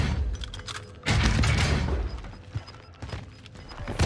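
PPSh submachine gun fire in Call of Duty Warzone on Rebirth Island, heard as loud, dense bursts of rapid shots with thuds and mechanical clatter in a chaotic game mix.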